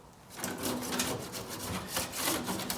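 Rough, repeated scraping strokes of a metal hive tool across wooden beehive parts, a rasping rub in an uneven rhythm, close and clear with no talking.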